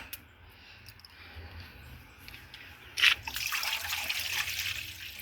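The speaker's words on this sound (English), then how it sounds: "We're gonna add some water." Water pours into a pot of red peas soup set for pressure cooking on a coal stove, starting with a sudden splash and then running as a steady, moderately loud trickle after a quiet lead-in.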